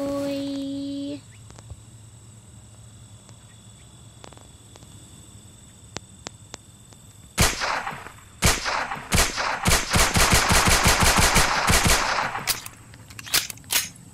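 Gunfire in a first-person shooter game, starting with a few isolated shots and then breaking into loud rapid bursts of automatic fire, over a quiet steady background hum.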